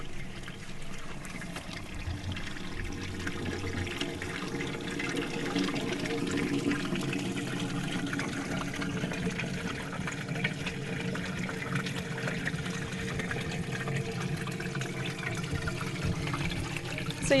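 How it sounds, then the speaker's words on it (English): Washing machine greywater pours steadily out of the end of a pipe into a level trench in a California laundry-to-landscape system, a continuous close splashing rush with no break. "more of the water is going to come out the end of the pipe"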